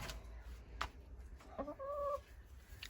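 A rooster crows once, a drawn-out call near the middle, over faint background noise with a few soft clicks.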